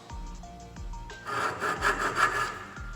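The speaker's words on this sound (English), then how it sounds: "I'm doing a bevel cut here because I want it straight across." A hand saw makes a bevel cut in wood for a dovetail joint, with a few close, raspy back-and-forth strokes, preceded by light taps and knocks.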